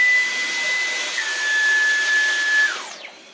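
A Dyson V11 Animal cordless vacuum runs with a steady high whine and airy rush, then winds down and fades at the end, with no talking.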